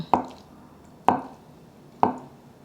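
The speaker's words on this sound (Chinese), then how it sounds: "准备50克的板豆腐，切薄片， 接着切条， 再来切成丁状。" A knife cuts firm tofu into small cubes on a board, three crisp, evenly spaced chops about a second apart, close and quiet with no voices.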